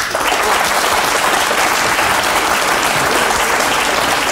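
A TV talk-show studio audience breaks into loud, dense, sustained applause that holds steady and continuous throughout, with no voices standing out.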